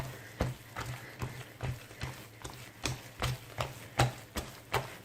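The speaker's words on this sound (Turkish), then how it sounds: "Bu şekilde çırpa çırpa yoğuralım" Poğaça dough kneaded by hand with a beating, slapping motion, giving a dozen or so regular, close, soft thuds at a steady rhythm.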